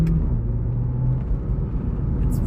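A 2016 VW Polo 6c GTI pulls out onto a main road and accelerates, its engine a steady, loud low rumble heard from inside the car, with no talk.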